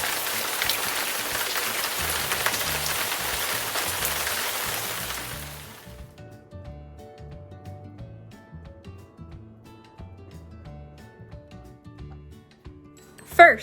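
Rain falling, heavy and steady for the first few seconds, then cutting off abruptly into quiet soft tones with a brief sharp sound at the very end.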